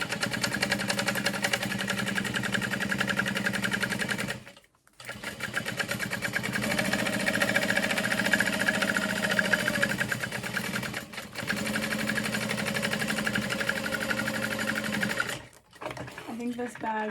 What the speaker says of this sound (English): I'm just gonna baste this pocket into place.